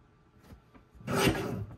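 A strip of paper is trimmed for a scrapbook page kit, heard as a soft rasping cut that swells up loud and close after a few faint rustles, with no voice.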